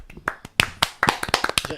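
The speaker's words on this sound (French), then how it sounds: "J'applaudissais ton thème" Quick, irregular hand claps, sharp and close, scattered among lively overlapping voices in a short burst of clapping for a theme song.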